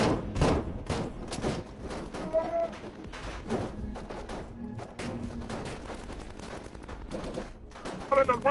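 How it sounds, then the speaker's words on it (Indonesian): Bursts of gunfire in an action film crack out repeatedly, some in rapid volleys, mixed with dramatic film sound and scattered thuds. "Clavo dan Angel tidak terima lalu langsung melesatkan tembakan hingga terjadi peperangan"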